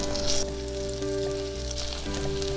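Garlic slices and shiitake mushrooms stir-frying in oil in a clay pot, giving a close, steady sizzle with a louder burst at the start and faint stirring scrapes, no talking.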